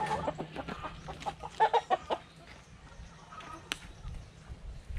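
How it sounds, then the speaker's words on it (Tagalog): A Rhode Island Red hen clucks in a short burst of close, soft calls on a farm with native chickens, with quieter background chatter around the clucking. "Ayan po yung ating babaeng Rhode Island Red."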